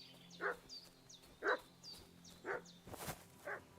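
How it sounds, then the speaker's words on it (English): A dog in a role-playing video game barks four times at a steady, evenly spaced rhythm, moderately close and clear, with a brief broadband crash partway through and no voices. "What's that dog making such a fuss about?"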